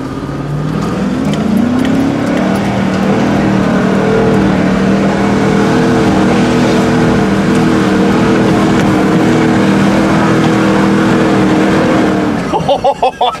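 Truck engine revving hard on an off-road trail hill climb at a Gambler 500 event in Michigan, a loud sustained roar with shifting pitch that climbs and holds for about twelve seconds, then drops away abruptly at the end.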